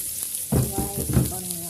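White onion fries in a pan with a soft steady sizzle, while a voice talks over it through most of the moment.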